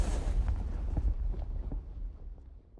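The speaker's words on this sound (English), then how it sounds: "And that's just this portion of the Whoosh impact file." A processed whoosh impact layer from a magic-cast sound design, heavy low-end rumble with scattered thuds and crackles, loud at first then slowly fading away over about three seconds.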